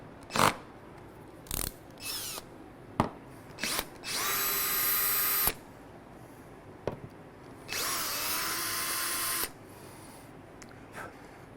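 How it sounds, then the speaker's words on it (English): A power drill unscrews a gimbal mount from a boat deck during a fish-finder retrofit, with several short clicking bursts and then two longer whirring runs of a few seconds each, close and loud with no talk. "we will unscrew this gimbal mount from the deck here"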